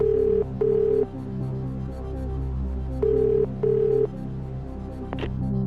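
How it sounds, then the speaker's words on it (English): Telephone ringing during the phone-a-friend lifeline in the Who Wants to Be a Millionaire Party Edition video game, two double rings of an electronic tone over a low droning musical bed. "let's get your friend Melanie on the line"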